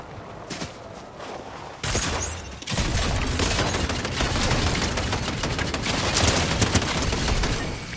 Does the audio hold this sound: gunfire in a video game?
yes